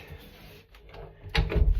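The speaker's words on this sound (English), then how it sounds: "Right, door shut." An indoor door thuds shut in a house at night, one close, muffled bump with a short rattle after a quiet moment of faint handling.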